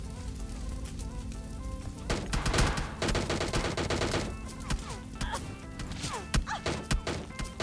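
Gunfire in PUBG Mobile Lite comes in dense, rapid bursts of close shots mixed with sharp impact cracks and clatter, rising and falling in intensity without a break.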